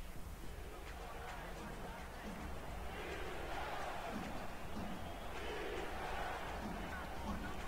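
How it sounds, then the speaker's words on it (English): At a Carolina football game, a crowd on its feet roars as a dense, sustained wall of distant cheering and babble under a commentator's talk. "Carolina crowd on their feet."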